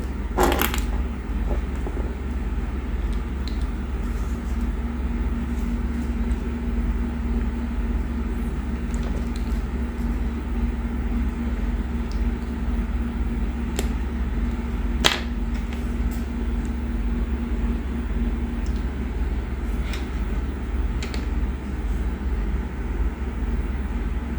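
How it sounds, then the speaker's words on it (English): Motors of a small drone on a SpeedyBee F405 Mini flight controller run steadily on a bench test, giving a continuous low hum with a faint whine and occasional clicks, alone without talk. "You see, all the motors running."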